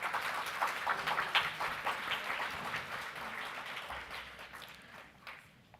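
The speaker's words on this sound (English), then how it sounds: "please join me in giving our distinguished guests a warm" Audience applause at a graduation ceremony on the Sydney campus of IHM & IHNA, with steady dense clapping from a large crowd that gradually thins and fades toward the end, no voices over it.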